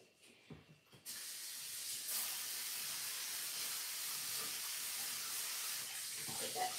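A hand sprayer gun sends a steady, loud hiss of water over a surface to rinse it, running continuously after a short start with no speech.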